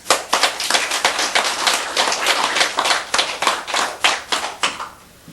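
An audience at a Buddhist sutra lecture claps hands in a steady, close run of sharp claps that thins out and stops near the end.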